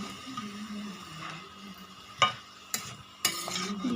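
Frying food, likely brinjal slices, gets stirred and flipped in a pan: a soft sizzle runs beneath three sharp scraping clinks of a spatula against the metal, close and fairly quiet.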